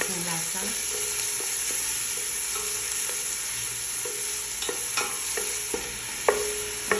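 Onions sizzle and fry steadily in a pan for kabsa, with occasional sharp clinks and scrapes of a utensil stirring against the metal over a constant hiss.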